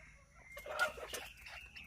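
A rooster in a Lao-Hmong village crows faintly from a distance, giving a short rolling call among quiet farmyard sounds.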